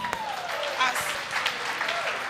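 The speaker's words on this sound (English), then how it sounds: "Clap for that, Jesus." A church congregation claps in a brief burst of applause, with a voice speaking over the clapping.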